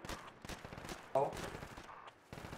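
Gunfire in Project Reality Battlefield 2 crackles as scattered, fairly quiet shots and short bursts, mixed in with shouted voices over a muffled background.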